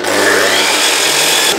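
A power saw makes a preparatory cut through wood while building a dust port for a Parf Guide System, giving one steady, loud, continuous whine of motor and blade that runs without a break and stops sharply at the end.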